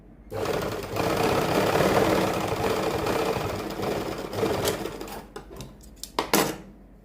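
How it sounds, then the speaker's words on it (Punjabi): An electric sewing machine stitches a half-inch seam on a kurti, a steady close whirring run for several seconds that slows, then ends in a few short bursts and clicks. "ਇਸ ਨਿਸ਼ਾਨ ਤੇ ਆਉਂਦੇ ਤੀਕ ਆਪਾਂ ਅੱਧੇ ਇੰਚ ਦੀ ਸਿਲਾਈ ਕਰ ਦੇਣੀ ਆ"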